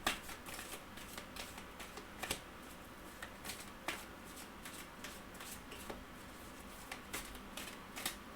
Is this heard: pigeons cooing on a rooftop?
no